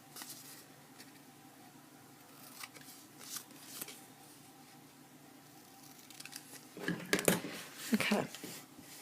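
Scissors trim paper for an interactive flipbook with gussets, faint quiet snips early on, then a louder close cluster of cutting and paper handling near the end, with a voice talking now and then.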